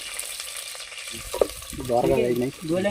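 Chopped onions frying in oil for a tribal dish of greens and dried shrimp, a steady broad sizzle under clattering stirring, with people talking over it in the second half.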